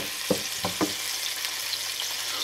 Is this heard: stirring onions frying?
yes